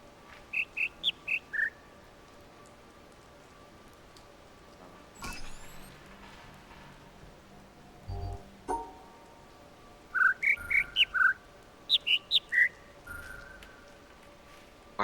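Short bursts of bird chirps in the video game The Witness come in quick rhythmic clusters, first a single run and then two overlapping sets later on, bright and fairly close over a quiet ambient background with a few soft thuds.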